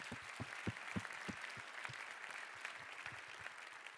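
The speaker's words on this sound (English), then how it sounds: "So give them a round of applause." An audience at a business pitch event applauds the judges, sustained clapping from a crowd with some low thumps mixed in, heard at a moderate distance.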